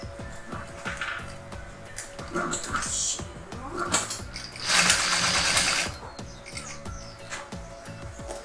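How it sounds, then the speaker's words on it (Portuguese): A sewing machine stitching the bottom of a lunch bag, whirring in bursts with mechanical clatter and a louder stretch midway, close up, with a voice talking intermittently over it. "a gente começa costurando aqui a parte de baixo, meio com meio"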